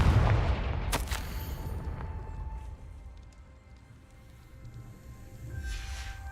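The Confringo fire spell goes off in Hogwarts Legacy as a loud, booming blast at the start, followed by a sharp crack and a long rumbling decay that fades into low ambient game noise.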